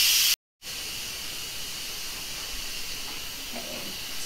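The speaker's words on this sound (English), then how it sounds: "we're just going to let that vent for a second until it stops steaming" An Instant Pot venting steam, a loud, broad, steady hiss that cuts out briefly and then resumes, continuing evenly and close by without any talk.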